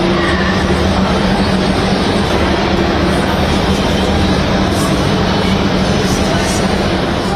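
A crowded Chennai railway station gives a constant loud roar of engine and machinery noise, mixing with a dense murmur of travellers boarding trains bound for the southern districts.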